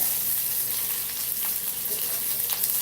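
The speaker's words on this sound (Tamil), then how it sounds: "தாளிக்கும் போது வெங்காயம் போட்டு கருவேப்பிலை போட்டிங்கன்னா ரொம்ப சில சொல்லி வெடிக்காது" Onion and curry leaves frying in hot tempering oil for tomato rice, a steady close sizzle with bright crackling running evenly throughout, no voices.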